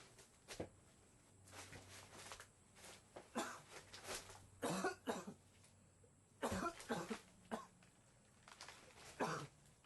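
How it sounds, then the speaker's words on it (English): Repeated sharp coughs come in short clusters, close and fairly loud, separated by brief pauses over a low steady hum, with no speech. "Cough, cough."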